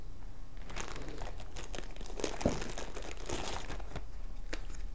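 Scissors from a professional first-aid kit cut through paper up close, making a continuous crisp crinkling and snipping with a few sharper crackles and no talk.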